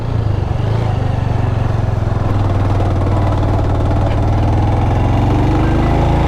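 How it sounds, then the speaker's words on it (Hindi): A motorcycle engine runs steadily and loudly throughout on a hill route toward Morni Hills, a continuous low rumbling drone with no talking. "बाइक का भी टेस्ट हो रहा है कि क्या ये थोड़े हैवी ड्यूटी पहाड़ों में चल सकती है"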